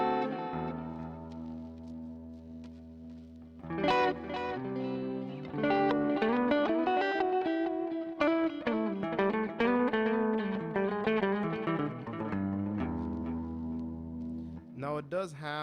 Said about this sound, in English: this is what I was looking for, is essentially like a cleaner tone